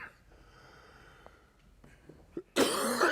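A single sharp cough near the microphone, bursting out loudly after a quiet stretch with faint breaths, during an interview at the NY Times Center.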